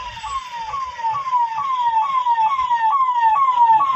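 An ambulance siren wails loudly and close in a traffic jam, its repeating falling tone cycling rapidly and steadily with traffic rumble underneath.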